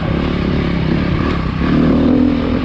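2020 Beta dirt bike engine revving during a ride, a rough, loud, continuous motor drone with a slight swell toward the end, with no talk.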